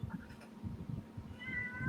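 A cat meows in a short series of plaintive, chatty calls, fairly close and moderately quiet, with no talking over them.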